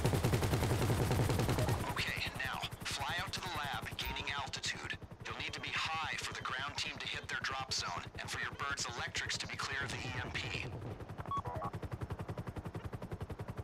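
A helicopter-mounted machine gun in GTA V Online fires in a rapid, steady stream that runs nearly the whole time, loud and continuous, while people talk over it.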